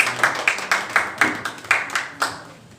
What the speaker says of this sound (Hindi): एक बार तालियां बजा दीजिए हमारे मुख्य अतिथि के लिए